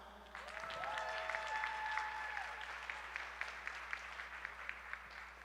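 A gala audience applauds to welcome comedian Azhar Osman, a broad sustained wash of clapping that swells quickly and keeps going steadily, with faint tonal music or feedback lines drifting underneath.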